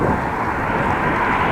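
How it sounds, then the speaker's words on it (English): Cars whooshing past on a road beside a bike lane, a steady loud broadband rush of passing traffic with no talk. "Only cars whooshing by."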